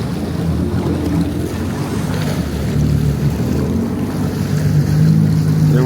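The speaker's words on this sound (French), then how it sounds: "on a pris que 2 jet skis" A jet ski engine drones steadily over rushing water, growing slightly louder toward the end, with wind and splashing throughout.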